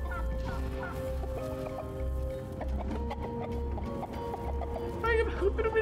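A turkey in the video game Dungeons 4 gobbles in repeated rapid, warbling bursts over a rhythmic low game soundtrack. A voice talks alongside it.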